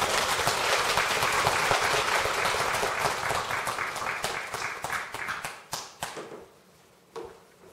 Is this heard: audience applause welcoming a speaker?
yes